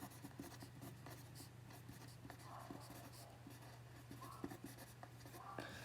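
A Bic Star Wars mechanical pencil writing on paper: quiet, close scratchy strokes in short irregular bursts over a low steady background hum.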